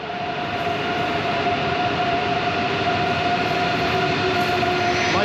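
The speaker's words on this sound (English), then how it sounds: "My train's now running so late that the Frankfurt trains arrive first." A train pulling into a German station, a steady, loud rolling rumble with a sustained tonal whine and hiss that persist evenly throughout, no voices heard.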